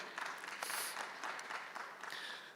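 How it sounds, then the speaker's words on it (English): Audience applause at an urban forum conference, steady dense clapping from a crowd that swells briefly and carries on faintly at a distance throughout. "So women deserve a big applause."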